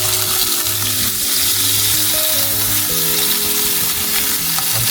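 Chili and salted vegetables fry loudly in a hot pan, a dense, continuous crackling sizzle heard up close with no voices.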